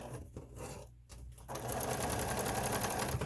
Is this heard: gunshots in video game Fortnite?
no